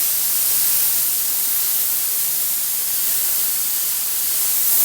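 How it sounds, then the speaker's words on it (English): Spray adhesive hisses steadily from a spray gun at about 25 psi onto a 2004 Honda Ridgeline headliner panel, a continuous broadband spray at a constant level with no pauses. "Alright, so we're just going to start spraying."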